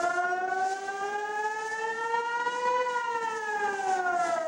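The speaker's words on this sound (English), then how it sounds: "Imagine it's your first time hearing those rocket sirens" A rocket warning siren in Israel wails steadily and loudly, its tone slowly rising and falling in one long sustained blare with no voices over it.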